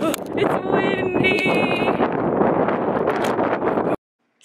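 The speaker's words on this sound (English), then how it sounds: "It's windy." San Francisco wind gusts buffet the microphone at sunset in a continuous rough roar, with a few faint high tones and rustles mixed in before it cuts off abruptly.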